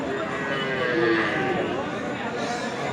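A cow with her calf at a busy cattle market, low lowing and animal sounds mixed with crowd chatter and nearby talking throughout.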